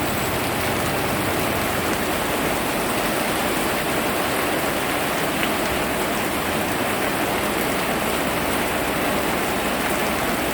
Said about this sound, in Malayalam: അത്യുഗ്രമായ മഴയാണ് പെയ്തുകൊണ്ടിരിക്കുന്നത്.